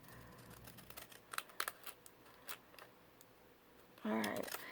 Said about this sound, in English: take your scissors, cut the sides in